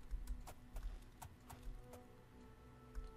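Faint, steady hoofbeats clop along in an even rhythm, a horse trotting at a distance in The Elder Scrolls IV: Oblivion, with no voices over it.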